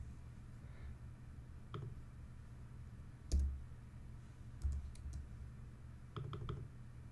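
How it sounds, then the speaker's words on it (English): A computer mouse clicking softly in a quiet room, a few isolated single clicks followed by a quick triple click near the end. "If I triple click, there it goes."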